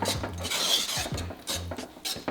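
Butter and cheddar get whisked into grits, with quick rhythmic scraping and clinking of a whisk against a pot in several short bursts, close and moderately loud.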